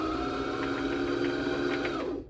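A Brother XL5340 sewing machine runs at a steady pace, a continuous loud whirring hum with a regular mechanical rattle that cuts off at the end.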